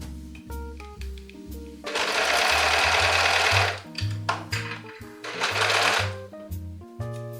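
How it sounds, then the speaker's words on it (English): A sewing machine overlocks the seams on the facings of a puffy cloud dress in bursts, two long loud runs of stitching between softer start-and-stop stretches with faint background sounds. "You're going to pin and sew here with the same seam allowance, press the seam open and overlock it."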